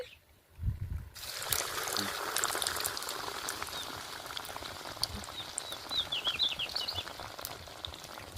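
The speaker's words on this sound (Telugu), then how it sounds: "ఇలా గారెల్లాగా చేసుకొని మనం ఆయిల్లో వేసుకొని కాల్చుకోవాలి" Corn vadas (garelu) dropped into hot oil, a dense steady sizzle and bubbling that starts abruptly after a short quiet moment and continues close and loud throughout.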